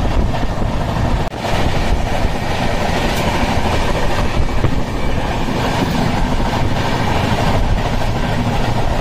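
An Indian passenger train runs at night toward Vapi station, and a steady, loud roar of wheels on rails fills the whole stretch with rhythmic clatter and wind noise, heard from inside the train.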